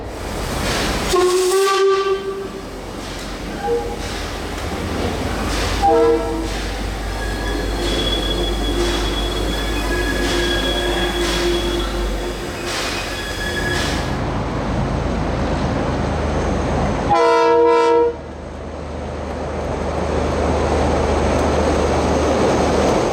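Steam locomotive F163 rumbles steadily in light steam at the rear of a passenger train departing Fielding, New Zealand, with hissing and clanking, sounding two long whistle blasts, one early and one near the end.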